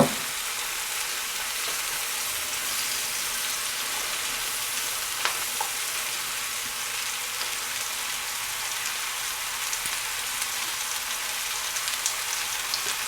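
Onions sizzle steadily in butter with mushrooms in a pan, a dense, even hiss of frying that continues unbroken and close throughout, with a few faint stirring clicks.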